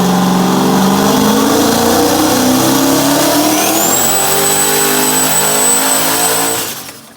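A turbocharged car engine pulls hard at full power, revving loud and rising in pitch with a whining turbo note climbing over it before the sound cuts off abruptly at the end.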